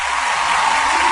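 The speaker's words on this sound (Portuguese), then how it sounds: "Senhoras e senhores, uma salva de palmas para Isao Imamura." An audience applauds for the illusionist Isao Imamura, a steady, full wash of clapping that lasts the whole short moment with no voices over it.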